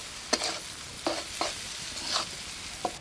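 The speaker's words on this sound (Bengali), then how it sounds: "তেল গরম হয়ে গেছে, রসুন কুচি দিয়ে দিচ্ছি পেঁয়াজ কুচি। পেঁয়াজ রসুনটা ভালো করে ভেজে নিচ্ছি।" Chopped garlic and onion sizzle softly in hot oil, broken by a few quick scraping stirs spaced across the moment, fairly quiet and close with no voices.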